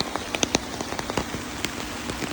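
Rain falls steadily in a forest where wild elephants bathe, a constant hiss broken by scattered close drops and splashes.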